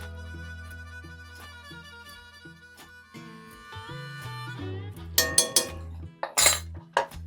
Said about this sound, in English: And give that a good stir.